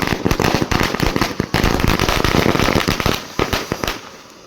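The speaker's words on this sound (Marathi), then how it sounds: "फटाक्यांचे बार वगैरे लावून" Firecrackers burst in a rapid, loud string of sharp pops and cracks at a village cricket league opening, then thin out into a few scattered bangs before fading.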